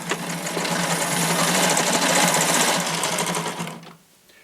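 A 35mm Bioscope hand-cranked movie camera runs with a steady, dense mechanical whirring clatter for about four seconds, close and loud, before winding down to quiet.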